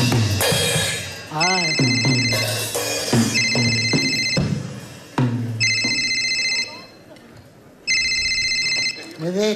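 A telephone rings repeatedly in a televised comedy sketch, loud electronic ring bursts recurring in a regular pattern over laughter and voices, with people talking between rings.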